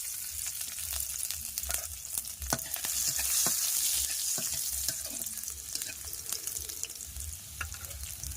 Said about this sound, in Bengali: রসুনটা থেকে সুন্দর গন্ধ বেরিয়ে গেছে মানে ভাজা হয়ে গেছে